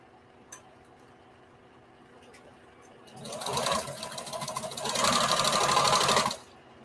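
A sewing machine straight-stitches a seam on a bandana patchwork T-shirt dress, starting after a quiet stretch and running in a steady, close, buzzing whir for about three seconds before stopping abruptly.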